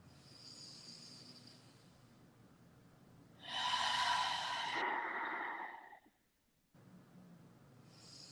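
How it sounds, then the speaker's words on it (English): Yoga class winds down with a shared deep breath, a soft airy inhale followed by a fuller, louder rush of exhaled breath, then a brief pause before quiet breathing resumes. "Closing our practice with 3 breaths together"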